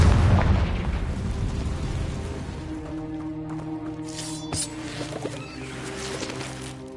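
The Confringo fire spell detonates in Hogwarts Legacy with a heavy, booming blast at the start that rumbles and fades, leaving a faint tonal ambient hum with a few small pops afterward.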